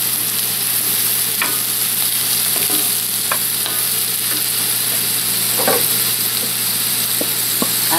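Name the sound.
mushrooms added and stirred, frying in pan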